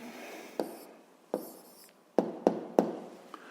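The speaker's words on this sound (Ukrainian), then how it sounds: "Ну що ж, записуємо відповідь." Pen or marker strokes and taps while writing down the answer to a grade 7 physics exercise, a handful of short scratchy marks and knocks spaced irregularly, close and fairly quiet with no talk.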